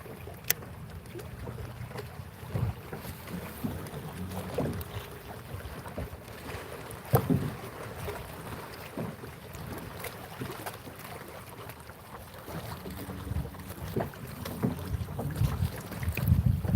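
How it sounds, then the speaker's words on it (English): Wind buffets the microphone out on a boat on open water, a steady rough rush with occasional thumps and knocks from the hull, no voices. "Wind's pushing me around a little bit, but that's all right."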